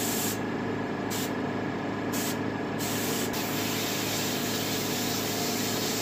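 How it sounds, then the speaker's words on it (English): An airbrush or spray can hisses Payne's gray paint onto a taxidermy turkey head in short bursts, then one long continuous spray, steady and close with no talking. "Here again, it's my Paynes spray."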